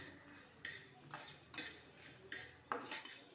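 A spoon scrapes and clinks against a pan as coriander seeds roast in a little oil, several soft rhythmic strokes at a quiet, close level.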